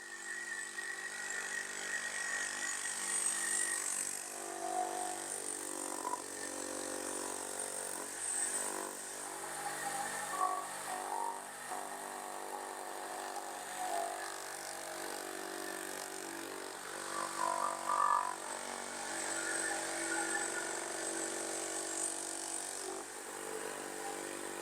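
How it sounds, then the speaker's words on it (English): Electric sander working over pieces of reclaimed wood for a large wooden dog lamp, giving a steady whirring grind with wavering, shifting tones throughout, running alone without talk. "I can now smooth off these bits with my sander"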